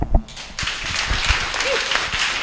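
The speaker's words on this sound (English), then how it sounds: "Give him another round of applause" Audience applause after a speech at a Rainmakers Sparks event, rising after a short voiced moment into sustained, fairly close clapping that holds steady to the end, with faint voices mixed in.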